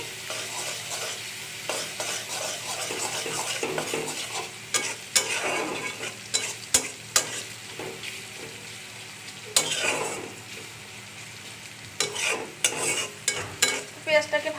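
Hilsa fish pieces fry in oil with onion and chilli, a steady sizzle broken by repeated scraping and clacking of a spatula against the pan throughout.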